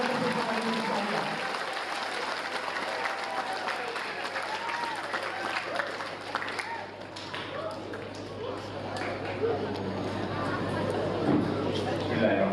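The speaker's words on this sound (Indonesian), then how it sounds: "Kami berikan tepuk tangan yang meriah dari para peserta didik sekalian." Students and audience members at an Indonesian vocational-program talk show give a Deputy Minister a sustained round of applause, a dense, even clatter of many hands at moderate volume heard across a hall.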